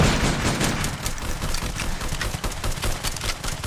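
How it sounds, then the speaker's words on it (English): Dense gunfire and explosive booms from a VR shooter game, one likely a grenade blast, roll on continuously as a loud battle without pause. "That's a grenade."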